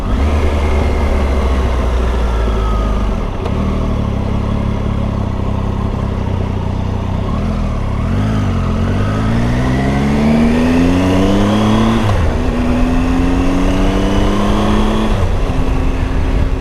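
A 2018 Triumph Tiger 800 XRx motorcycle with a triple-cylinder engine pulls away and accelerates hard, loud and close, revs climbing through several gear changes with brief dips between shifts.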